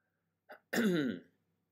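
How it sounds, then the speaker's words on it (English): A three-year-old boy gives a short puff of breath followed by one quick cough, close and alone in quiet surroundings. "blow and cough."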